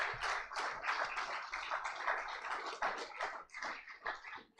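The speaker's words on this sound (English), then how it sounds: "Please welcome Sir with the thundering applause." A crowd claps in a steady, fairly quiet round of applause lasting several seconds.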